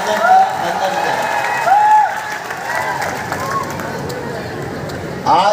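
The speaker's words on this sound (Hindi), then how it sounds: "मुख्यमंत्री जी का जोरदार तालियों के साथ हम सब स्वागत करें" A crowd at a village public event applauds to welcome the Chief Minister, with clapping and cheering in short swells amid murmuring and a voice over a loudspeaker.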